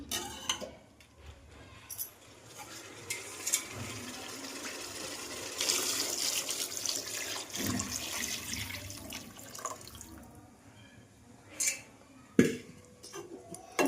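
Water is poured and mixed into chicken biryani in a pot, giving quiet, intermittent splashing and sloshing with a few light clinks of utensils and no talking.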